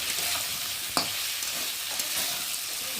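Spices frying with vegetables in a pan for a cumin-paste fish curry, a steady bright sizzle with occasional stirring scrapes and clicks, close and continuous with no voices.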